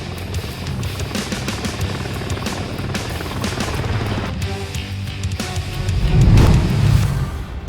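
A Miltech MH-60 military helicopter in Microsoft Flight Simulator gives a steady, loud rotor thump and turbine whine that swells louder near the end, with no talking.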